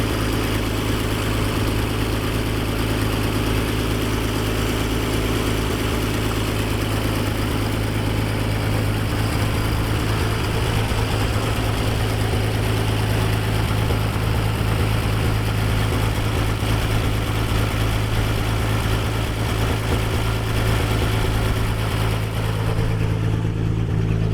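A 1957 Dodge engine idles steadily after years of sitting, its carburetor frosting over and the choke partly closed, a loud, continuous low rumble that holds even throughout with no talking.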